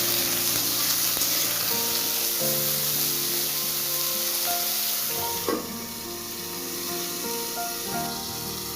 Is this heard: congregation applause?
no